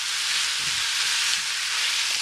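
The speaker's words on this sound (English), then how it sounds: "We're going to saute this a little bit just to get some of the grease and the fat out." Ground meat and onions sauté steadily in a pan for Italian stuffed peppers, a constant close hiss of frying fat with a few faint scraping stirs underneath.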